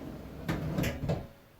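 A homemade drawer on roller bearings slides under a workbench, giving three quick rolling thumps and clunks in close succession over a quiet background.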